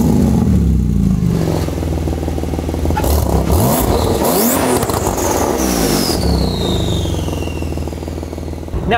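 A Porsche GT2 RS sports car drives on the road and accelerates hard, its loud engine roaring and rising in pitch through the gears, with a passing whoosh midway and no talking.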